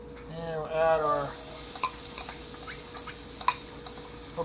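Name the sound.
vegetables sizzling in olive oil and beef drippings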